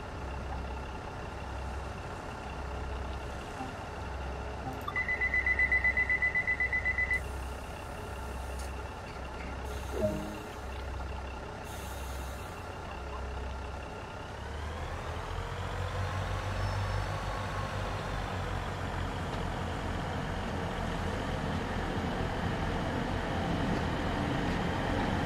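A Class 150/2 diesel train in Train Sim World 2 on the West Cornwall line from St Erth to St Ives rumbles steadily with a low engine drone, then the pitch swells and rises as the engine notches up midway.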